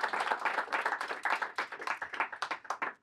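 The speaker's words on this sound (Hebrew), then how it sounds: "אז תנו לו עוד מחיאות כפיים" Audience applause for a guest speaker at a pop music production workshop, a dense wash of many clapping hands sustained for about three seconds before cutting off, with no voices over it.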